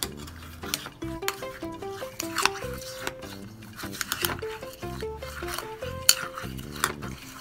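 A spoon stirs halo-halo dessert in a glass, clinking and scraping rapidly and unevenly against the sides, with tinkling ice and a rhythmic run of close metallic taps.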